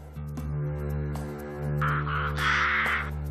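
Ravens, black members of the crow family, give several harsh caws over steady low background hum, with the calls growing louder and more drawn out toward the end.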